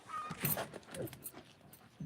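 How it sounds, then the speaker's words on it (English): An indoor dog gives soft, high whimpers and short whines in a quiet room, faint and broken into several brief cries over a couple of seconds. "That's my indoor dog right here."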